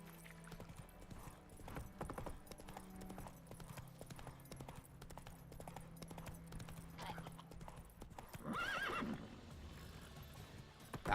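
Roach the horse galloping in The Witcher 3: Wild Hunt on PS5, a steady quiet run of hoofbeats with a brief whinny near the end, low in level while a player talks over it.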